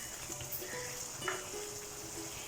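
Sugar syrup with lemon juice is stirred in a pan for Bombay Karachi halwa, a soft continuous bubbling and simmer with faint scraping of the spoon, close and fairly quiet.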